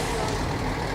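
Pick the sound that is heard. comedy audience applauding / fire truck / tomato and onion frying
fire truck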